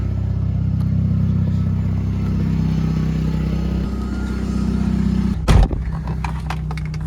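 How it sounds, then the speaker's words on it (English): A 2004 Mazda RX8 rotary engine idling steadily with a low, even drone, fitted with an eBay catalytic converter and an exhaust leak, with a sharp clunk near the end. "I'm just gonna drive the car around now."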